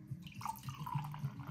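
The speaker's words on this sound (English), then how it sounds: "Let me pour myself a glass of wine here" Wine poured from a bottle into a glass, a close, steady liquid gurgle with small glugging pulses lasting over a second, no voices.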